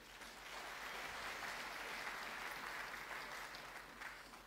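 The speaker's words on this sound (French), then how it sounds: "Vous pouvez applaudir, s'il vous plaît." Church audience at a conference applauding steadily, a dense, even wash of many hands clapping that holds for several seconds at moderate loudness, with no speech over it.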